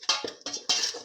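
Ginger garlic paste and green chili paste stirred in a pan, with three bursts of metal utensil scraping and clinking against the pan, close and fairly loud, with no sizzle standing out.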